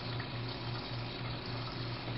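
Water pumped through the tangential inlet into the upper chamber of a LAKOS centrifugal separator gives a steady, even rush with a low mechanical hum beneath it, constant and unbroken throughout.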